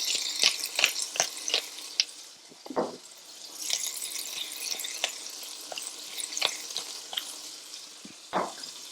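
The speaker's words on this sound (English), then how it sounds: "I hope you can hear that cooking over there" Tomatoes cook in a pan with salt and pepper, giving a quiet, steady sizzle broken by sharp clicks and scrapes of stirring, heard up close with no talking.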